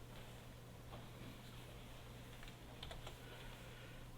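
A computer keyboard gives a few soft, quick key clicks as the Ctrl+S save shortcut is pressed, over a quiet steady background hum.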